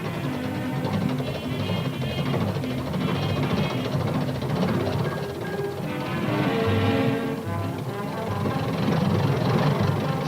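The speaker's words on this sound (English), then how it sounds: "make the rest of the trip in that safe and comfortable Willie's Jeep" Willys Jeep engine running with a steady low knocking rumble and vibration, continuous and fairly loud throughout, swelling slightly near the end.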